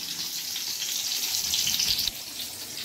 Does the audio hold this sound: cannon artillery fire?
no